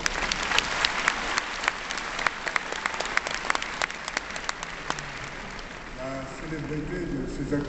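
A large audience applauds at an evening gala in Tbilisi, with dense, sustained clapping that carries on across the whole stretch and thins toward the end as a voice begins to speak.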